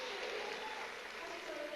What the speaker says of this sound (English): You can hear the cheer for this